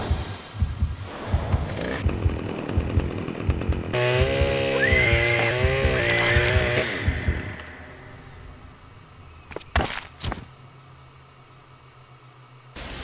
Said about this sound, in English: You then use the chainsaw to try and open the door.